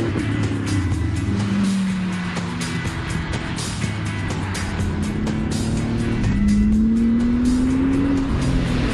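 A Lamborghini Gallardo with four-wheel drive powers along at speed, its engine note droning and rising through revs while tires hiss on the road, loud and close throughout with a strong climbing pitch near the end.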